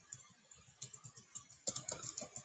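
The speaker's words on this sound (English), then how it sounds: "I'm typing notes on the side." Typing on a computer keyboard: quiet, rapid key clicks in irregular bursts, picking up to a busier, slightly louder flurry toward the end.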